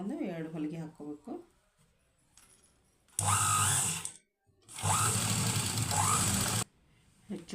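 A sewing machine stitching blouse and lining pieces runs in two loud whirring bursts of about a second and nearly two seconds, separated by a pause, with a person speaking before and after.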